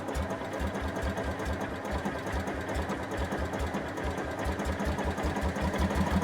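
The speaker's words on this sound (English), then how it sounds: "But you can hear it idles too low." A Kubota RTV400Ci utility vehicle engine idles too low, giving a close, steady chugging with evenly spaced low thumps and a faint mechanical clatter. No one talks.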